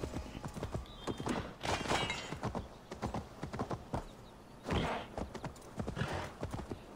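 A horse gallops in the Assassin's Creed Valhalla video game, a steady rapid run of hoof clip-clops with rhythmic bursts and a neigh, loud and close, with little talk over it.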